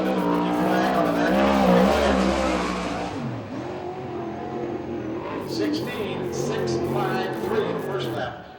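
A USAC/CRA sprint car at Tulare, California runs a qualifying lap, its engine screaming and revving loudly before fading somewhat as it moves away, then surging again, heard under a commentator's talk.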